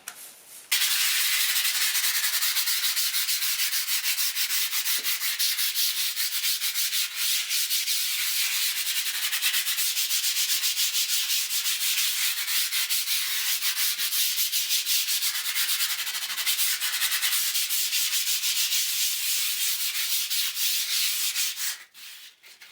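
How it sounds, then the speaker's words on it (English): 80-grit sandpaper rubs steadily across a plastered interior wall, roughening it and smoothing rough edges around filled cracks; a close, continuous scratchy hiss lasting about twenty seconds with no talk. "80 grit paper just to roughen up the wall slightly and just to smooth off any rough edges"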